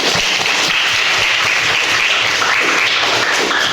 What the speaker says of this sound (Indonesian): Tepuk tangan buat Nina